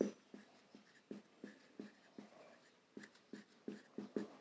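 Pen strokes scratch out a math solution on paper, a quiet close series of short taps and scrapes in an uneven rhythm, one stroke after another, with no voice over them.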